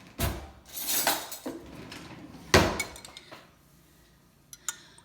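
A metal spoon clinks and scrapes inside a glass of homemade lemonade while fishing out lemon seeds; several close, bright knocks and scrapes come in bursts, then quieter scattered taps near the end.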